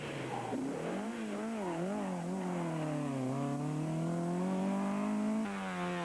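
A front-wheel-drive Ford Escort F2 rally car on a rallysprint stage at Punchestown revs hard with its engine note rising and falling through gear changes, loud and close, with no voices.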